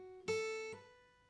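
An electric guitar picks a short fragment of a riff, a clear ringing note followed by a hammer-on to a second note that sustains and fades, close and clean.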